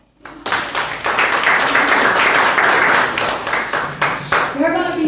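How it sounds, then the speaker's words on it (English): An audience at a leadership school gathering bursts into applause, with dense, loud, continuous clapping for several seconds that thins toward the end as a voice comes in. "Give her a hand clap"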